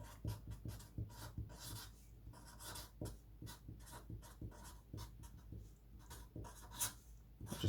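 Chalk or marker scratching across a board while a physics teacher writes centre-of-mass notes, with quick, uneven strokes and taps repeating close up throughout, and no voice heard.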